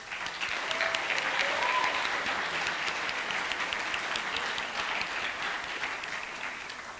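A crowd applauds after the performances at a high school spring band concert, with steady, sustained clapping that swells early and then slowly tapers off, with no voices over it.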